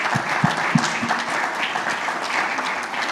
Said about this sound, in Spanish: Fuerte aplauso para ella también.